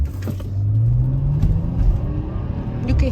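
Car engine revving in Sport mode, a close, loud rising drone that climbs in pitch over a few seconds, then settles into a low rumble with no talk.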